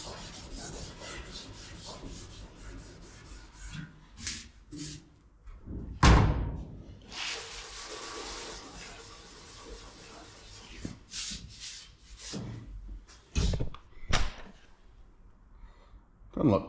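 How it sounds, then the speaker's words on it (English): A Scotch-Brite pad rubs in repeated rasping strokes over 67-year-old paint, close and fairly loud, with a sharp thump partway through and brief speech between strokes. "Scotch-Brite. See if we can just kind of soften this up a bit."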